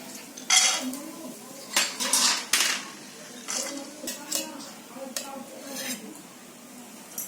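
Roasted sweet karanji filling is tipped from a pan into a large parat plate, with sharp, repeated metal clinks and scrapes of utensils in quick, uneven bursts, close and clear.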